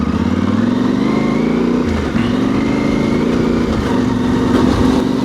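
A Yamaha Tenere Extreme motorcycle riding off-road on a rally, its engine droning loud and steady close by, with the revs sagging and then climbing again as the throttle is worked, with no talking.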